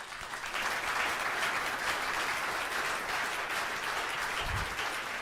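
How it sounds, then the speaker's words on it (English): Steady, dense applause fills a crowded political gathering in Calgary, many hands clapping together at an even level throughout with a low thump near the end. "And as you clap"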